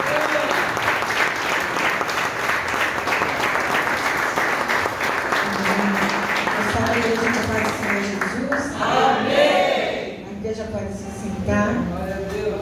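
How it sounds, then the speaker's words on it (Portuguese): Church congregation applause, a strong round of clapping for the woman preacher at an evangelical service, steady and dense throughout, with voices and a few cheers rising over it near the end. "Vamos receber a serva do Senhor com uma forte salva de palmas para Jesus."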